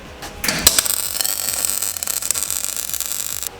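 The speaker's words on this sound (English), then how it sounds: "That's the noise of blowing out" A harsh, hissing burst of crackling noise erupts as a weld blows out the end of a tube from too much heat, then settles into a steady sputtering roar, with sharp pops near the start.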